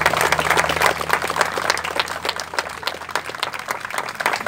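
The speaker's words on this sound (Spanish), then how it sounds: "un aplauso para él también" An outdoor crowd at a cycling event applauds an athlete, with crisp, uneven individual claps forming a lively patter that tapers slightly over a few seconds, a faint low hum beneath.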